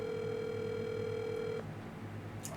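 A telephone call's dial tone, a steady electronic tone that stops partway through and leaves a low hum and faint background noise, with no one speaking.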